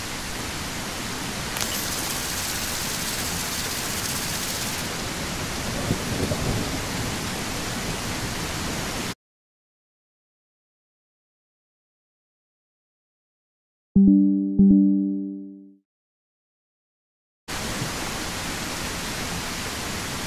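Steady broadband hiss of a rainstorm beginning outdoors, recorded by a trail camera, loud and continuous with low rumbling under it, cutting off to silence midway before a short burst of tones and then returning.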